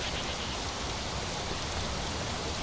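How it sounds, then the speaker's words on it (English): Steady rain pouring down outdoors in the heavily modded Skyrim setup Nolvus, a dense continuous hiss with no let-up, fairly loud and alone. "Let's get out of the rain."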